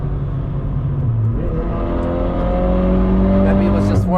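A BMW E36 accelerates past on the Nürburgring, its engine note rising over the loud, constant drone of another car's cabin, with a voice speaking partway through.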